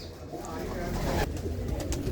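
Pigeons coo in a low, steady murmur close by, with a voice faintly mixed in.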